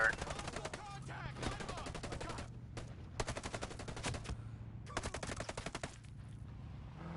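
Rapid automatic gunfire from the video game Ghost Recon Breakpoint, several loud bursts of repeated shots separated by short pauses, with a voice talking over the shooting.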